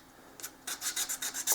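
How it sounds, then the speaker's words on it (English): An emery board files down dried drips on a beachside bungalow model, about six short, quick scratchy rasping strokes close to the microphone after a faint first pass, with no talking. "I've got an emery board here, and I'm going through, and any place that there's, like this drip will be fine"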